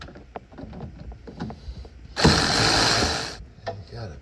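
A ratchet loosens a bolt on a car's shock absorber during a strut and shock replacement. It gives a burst of rapid, close clicking that lasts about a second, set among scattered clanks and small handling noises.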